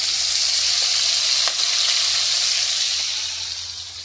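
Fish flipped to the other side sizzles loudly and steadily in hot oil in a wok, a continuous close crackle that eases off slightly at the end.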